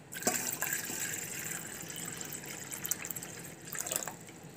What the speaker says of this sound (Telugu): ఒక గిన్నెలో నేను ఒక చెంబు వాటర్ పోస్తున్నాను